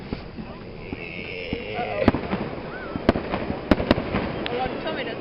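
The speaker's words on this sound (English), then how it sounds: "There's fireworks in the church." Fireworks bursting at a Tri-City, Kentucky display on July 6, 2012, with several sharp, distant-sounding pops and cracks over steady crowd murmur, with people talking throughout.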